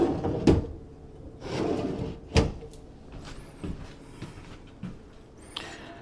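Kitchen drawers in a prefab home are pulled open and pushed shut several times, each one giving a quick wooden slide and a bump, with a few sharp knocks spaced irregularly and quieter handling between them.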